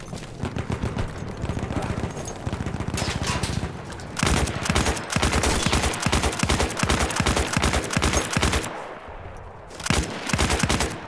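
Rapid gunfire in the Battlefield 1 campaign, bursts of machine-gun fire that run almost continuously, loud and close, with brief gaps between volleys and no talking.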